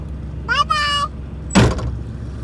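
A car door slams shut once with a sharp thud, close by, just after a voice speaks in a brief, rising tone.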